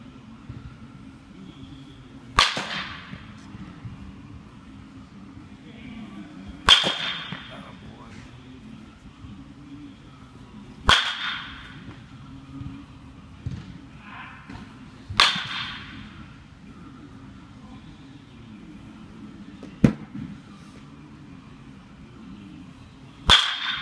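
A two-handed baseball bat hits balls during batting practice: six sharp, cracking impacts land roughly every four seconds over a low, steady background rumble.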